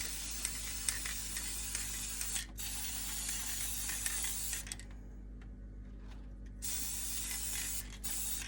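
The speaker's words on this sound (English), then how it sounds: "Just spray all this shit on." An aerosol can hisses in long close bursts, pausing briefly between sprays, with one longer gap before a final burst.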